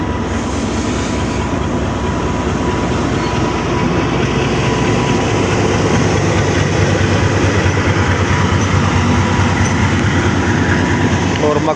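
Diesel locomotive 6027 AG30 hauling the 48 Down Rehman Baba train, a steady loud rumble of wheels on rails with continuous low engine drone throughout, no talk.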